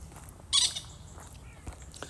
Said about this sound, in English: That was a loud bird.